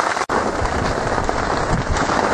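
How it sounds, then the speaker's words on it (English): Steady, dense rain drums on a clear plastic tarp stretched over a forest camp, a close, continuous hiss and patter with no voices. "you just have to see life under the tarp on what it's like on a rainy day"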